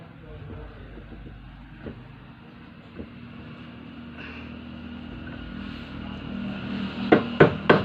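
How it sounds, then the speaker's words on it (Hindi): A mixer grinder motor shaft being hammered fully into place, with a few sharp metallic knocks near the end following a quieter stretch of low background rumble and sparse taps. "तो दोस्तों इस तरीके से हमें इसको पूरी को ठोक देना है एकदम ठेठ तक।"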